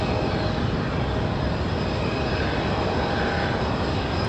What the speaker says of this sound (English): Enjoy the Aer Lingus arrival.